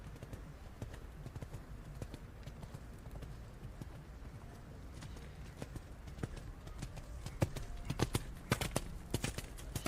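Horse hooves clip-clop steadily in a rhythmic canter on an arena surface during junior eventing dressage at a European championship, with a few sharper, louder hoof strikes near the end.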